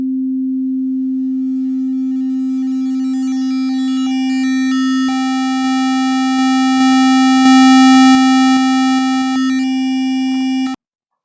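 Synthesizer sine wave run through a stair-pattern waveshaper: a pure steady tone that turns progressively buzzier and harsher as stepped harmonics are added, then stops abruptly, with no talking.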